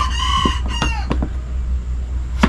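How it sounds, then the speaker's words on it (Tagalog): A rooster crows close by with a hoarse, raspy call, its harmonic notes rising and breaking in the first second, followed by a few short clucks and a faint low rumble in the background. "Paus ang manok."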